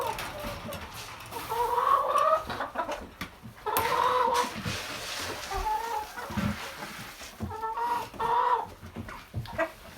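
Hens cluck and murmur on a homestead, several birds close by in steady overlapping calls with rising squawks, the flock chatter continuing throughout.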